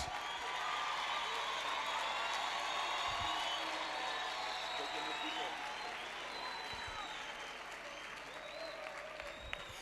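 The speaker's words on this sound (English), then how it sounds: "One more time, a round of applause for the bishop." Steady audience applause fills the whole stretch, many hands clapping continuously at an even, dense level.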